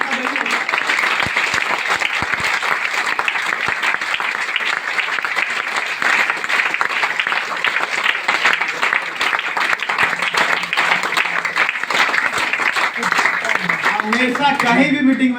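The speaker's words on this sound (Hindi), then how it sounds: "चलिए एक जोरदार ताली हमारे लिए।" Loud, dense applause from a meeting audience fills the whole stretch, steady and close, with the clapping staying strong until the end.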